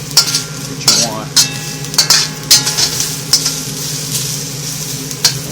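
Onion sizzles and fries in a wok on an electric stove, with a loud steady hiss broken by repeated scraping stirs and clinks of the utensil against the pan at close range.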